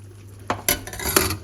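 Stock goes into a mushroom risotto made with porcini, followed by a spoon scraping and clinking against the pan as it is stirred, a few sharp metallic knocks over a soft simmering sizzle, close up.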